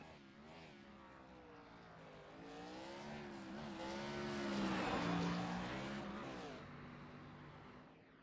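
Race car accelerating off pit road at Nashville Fairgrounds Speedway, engine note rising and swelling in pitch and loudness as it nears, then easing off, heard faintly with distant track ambience.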